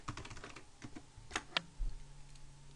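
Computer keyboard keys tapped in quick, uneven bursts while a search term is typed into a PC, close and fairly quiet, with a couple of sharper clicks near the end and no talking.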